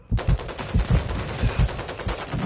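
Rapid automatic gunfire in Call of Duty Modern Warfare 2 multiplayer, loud close bursts of machine-gun shots in a quick irregular rhythm, with no talk over it.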